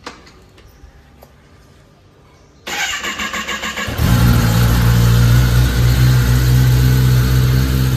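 A Royal Enfield GT650 motorcycle engine cranks and catches, jumping from a quiet background to a loud, steady rumbling idle that holds close and strong with no talking.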